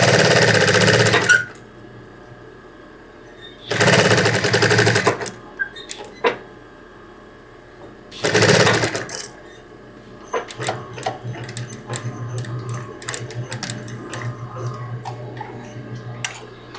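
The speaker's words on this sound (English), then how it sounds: "My machine obviously is an industrial machine, but this particular one does not have a back stitch" An industrial sewing machine stitching t-shirt fabric runs in three loud whirring bursts of a few seconds each, separated by quiet pauses, then light clicks and handling noises continue.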